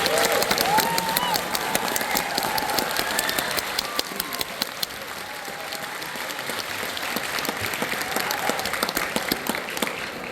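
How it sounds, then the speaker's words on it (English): Audience applause at an 8th grade graduation ceremony, a dense, sustained wash of many hands clapping with some crowd murmur, steady and fairly loud throughout, easing slightly toward the end. "How about one more round of applause?"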